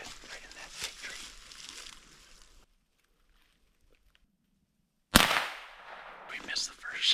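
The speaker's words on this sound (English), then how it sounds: "We missed the first shot, and the squirrel's running up the tree." A single-shot gun fires once at a squirrel up a tree during an outdoor public-land hunt, a sudden loud crack after a quiet pause, preceded and followed by rustling movement.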